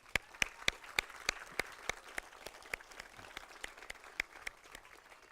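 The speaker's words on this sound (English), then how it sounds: "Let's give him a round of applause." Scattered, fairly faint applause at a Veterans Day ceremony honouring a speaker. A modest group claps steadily and evenly for several seconds, and no voices come through.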